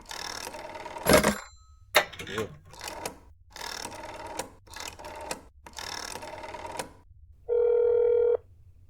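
A telephone rings in a video game: one steady electronic ring burst near the end, following bursts of game sounds and talking.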